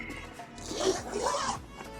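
Zipper pulled open on a waterproof or water-resistant camera bag, a close raspy run of teeth lasting about two seconds, unaccompanied by speech.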